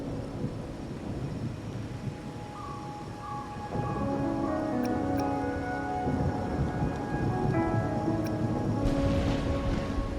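Thunderstorm with rain and howling wind in the Wuthering Waves video game, a steady wash of rainfall with low thunder rumbling underneath, growing slightly louder midway, accompanied by faint tonal background music.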